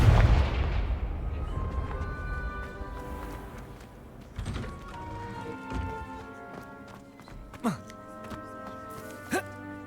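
A fire spell blast in Hogwarts Legacy, a loud booming burst at the start that fades into a rumbling tail, followed by softer magical chimes and thuds, with no one talking.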